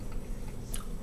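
A bite of smoked pastrami with the fat left on, seasoned with coriander and black pepper, being chewed up close: soft, moist mastication with a faint wet click near the end, and no talking.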